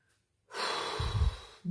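A single deep inhale followed by a long, soft breath out, close and quiet during a guided breathing pause.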